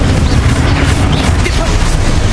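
Spell blasts in the game Hogwarts Legacy rumble in a loud, dense barrage of booms and crackling bursts, continuous and heavy with no pause across the stretch.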